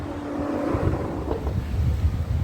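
Outdoors on a windy, chilly day, gusts buffet the microphone with a continuous low rumble that swells and dips throughout, with no voices.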